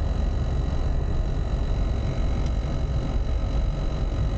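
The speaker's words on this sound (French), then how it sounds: "c'est la ventilation qui fait du bruit, je vais la couper." Inside a Citroën BX 16 TRS, the ventilation fan blows with a steady, loud broadband whoosh and a faint tonal hum, continuous and unchanging throughout with no talking.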